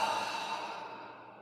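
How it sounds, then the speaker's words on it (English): A single long, steady exhale during a Taoist yoga breathing exercise, breathy and close, slowly tapering off toward the end. "Big exhale."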